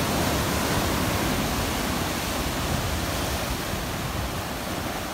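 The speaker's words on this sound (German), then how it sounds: "Das sind hier immer noch ziemlich große Wellen." Large ocean waves in a bay near Acapulco, Mexico roll and wash as a dense, loud, continuous roar without a break, heard alone with no voices.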